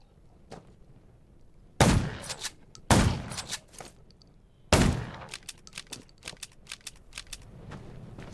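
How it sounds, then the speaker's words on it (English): Three loud, sharp gunshots ring out a second or so apart in the video game Undawn, each with a short echoing tail, over scattered clicks and rattling. "Gunshots will attract more."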